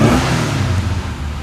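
A 1974 Mini Cooper with a manual choke running just after starting, its small engine giving a loud, close, steady revving drone that eases slightly toward the end, with no voices.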